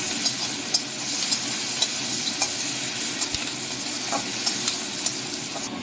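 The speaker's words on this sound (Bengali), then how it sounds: "এবার দিয়ে দিচ্ছি কুচিয়ে রাখা পেঁয়াজ আর চেরা কাঁচা একটু ভালো করে ভেজে নেবো ফোড়নের সাথে।" Chopped onion and slit green chillies frying in hot oil with tempering spices, a steady close sizzle running throughout with light, regular stirring scrapes on top.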